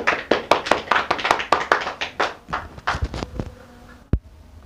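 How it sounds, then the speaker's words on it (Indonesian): A classroom audience applauds a student group during a microteaching lesson on cells, with a burst of close, rapid hand claps that thins out and ends in a single late clap. "Beri aplaus buat kelompok 2."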